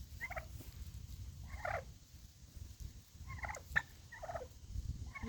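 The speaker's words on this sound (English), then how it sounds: "You ever seen a border collie get herded by turkeys?" Turkeys gobbling in repeated bursts around a border collie, several calls spaced across the clip at moderate distance over a low outdoor rumble.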